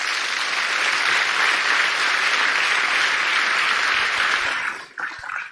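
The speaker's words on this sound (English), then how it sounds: "I would just like everyone to give a round of applause for the Piscataway and the Haudenosaunee" A gathered audience applauds loudly and steadily for several seconds, a dense crowd clapping that fades out abruptly near the end, leaving a few scattered claps.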